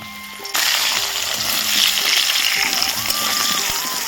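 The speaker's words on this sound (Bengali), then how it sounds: "এবার আলুগুলো ভেজে নেব" Potatoes dropped into hot oil in a pan: a quiet start, then a sudden loud, continuous sizzle that holds steady for several seconds, with faint clinks and tones underneath.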